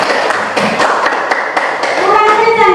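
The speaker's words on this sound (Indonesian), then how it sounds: "Sekali lagi tepuk tangan dulu." Classroom students clap their hands in a quick, loud burst of rhythmic claps close by, with children's voices chattering underneath toward the end.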